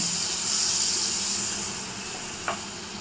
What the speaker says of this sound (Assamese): কেৰাহীখনত এনেধৰণে পেনখনত বাটাৰ 1 চামুচ দি দিব।